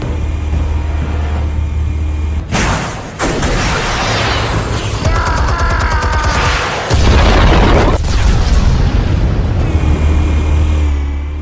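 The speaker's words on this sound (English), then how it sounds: "Explosives armed. Fire when ready." Explosives detonate in a Batman video game, heavy booming blasts and crackling debris that fill the scene loudly, with deep rumbling between bursts and no talk.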